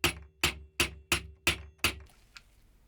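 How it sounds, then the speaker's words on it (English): Six heavy hammer blows struck at a steady pace on a metal lathe chuck, driving the inner sleeve out of the chuck body, each hit a sharp ringing clank, followed by a faint lighter tap. "With a lot of hammering, I forced the inner sleeve millimeter by millimeter out of the chuck body."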